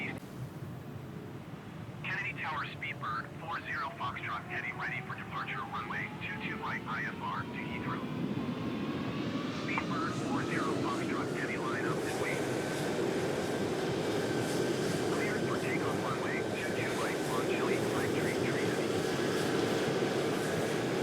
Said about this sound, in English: 787-9 lining up for the runway, British Airways 777-200 behind it, followed by an American Airlines 737-800